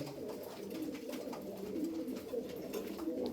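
Tumbler pigeons kept as Tokat show birds coo in a steady, overlapping low murmur that runs throughout, close and fairly loud, with no talk over it.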